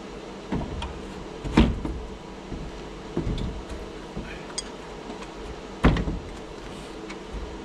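Door being lifted and set onto the cab of a Massey Ferguson 50B tractor during repair, with a few distinct clunks and knocks of metal spaced apart, two louder thumps standing out against a quiet workshop background.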